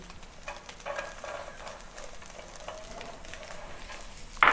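Vegetables such as long bean and onion sizzle and fry in a pan as they are stirred, a steady crackling hiss with faint scraping, fairly quiet and close, with no voices.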